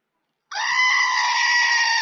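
A goat's bleat rings out as a single sustained, wavering call of about a second and a half, loud and close, starting abruptly after a moment of silence and cut off at the end.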